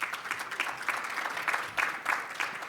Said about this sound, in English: give yourselves an applaud for that too